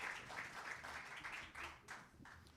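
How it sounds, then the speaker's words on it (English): Audience applause for Collins at a media launch event, a steady wash of many hands clapping at moderate distance, continuous for a few seconds with slight swells and dips, no talk over it. "Please, let us give Collins a warm round of applause"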